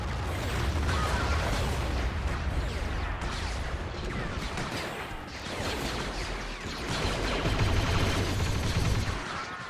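Dense Star Wars battle noise from a video game, droids advancing under constant explosions and blaster gunfire, a thick continuous roar of bursts and crashes with no talking.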